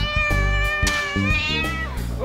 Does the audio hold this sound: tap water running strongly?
no